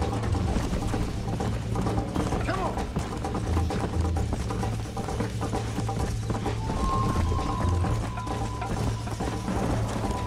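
Galloping horse hooves in Red Dead Redemption 2 clatter in a steady rhythm over layered game music and ambient noise, with a sustained tone entering partway through.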